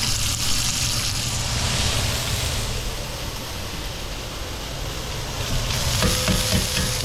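Crab-stuffed striped bass sizzling in a pan after being flipped, a loud, steady frying hiss filling the whole stretch, with a few faint clicks toward the end.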